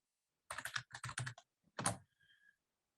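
A password is typed on a computer keyboard in a quick burst of crisp, close keystrokes, a short pause, then a few more taps in an otherwise silent room.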